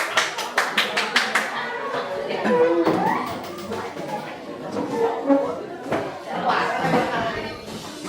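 Students in a school guidance and counseling class clap their hands in a quick run of sharp, close claps, then break into chatter and light laughter as voices take over.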